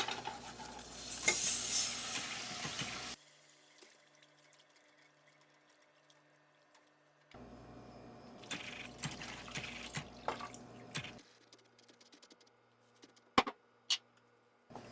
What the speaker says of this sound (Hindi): अब स्पून के साथ इसे चलाएंगे।